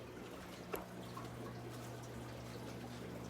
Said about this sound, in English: this one has already been modified and is flowing water